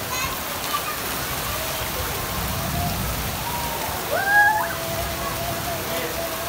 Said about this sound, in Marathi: कोकणातला पहिला पाऊस आणि पावसाची मजा घेताना आम्ही सारे.